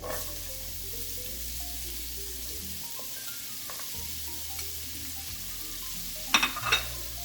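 Chopped onions frying in a pan of browned hamburger meat, giving a steady, moderate sizzle with a couple of brief scraping clatters near the end.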